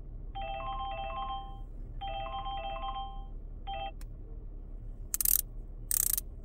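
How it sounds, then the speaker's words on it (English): A mobile phone rings indoors in two long melodic bursts and a short third burst, followed by a click and two brief rustling noises. "My phone was ringing."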